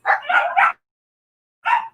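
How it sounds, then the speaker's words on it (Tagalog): Dogs barking indoors during a live online class, two bursts of several loud, close barks with a short silent gap between them. "yung mga aso, maingay"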